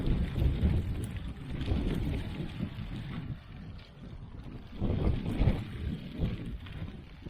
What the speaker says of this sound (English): Now it's windy out